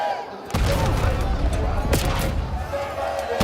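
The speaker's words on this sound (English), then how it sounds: "Now it's just raw gunfights over the top of Dojo." Rapid gunfire in the Call of Duty Black Ops 7 video game during a competitive match on the Dojo map, dense bursts of shots and impacts over a steady mix, with a commentator talking over it.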